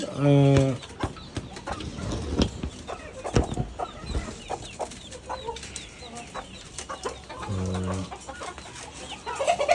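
Chickens cluck repeatedly nearby, with a few louder squawks at the start and near the end, amid rustling and faint background voices.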